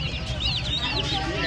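Guinea fowl at a busy poultry and pet market in Uluberia cluck in short, overlapping calls close by, over a dense crowd murmur with people talking throughout.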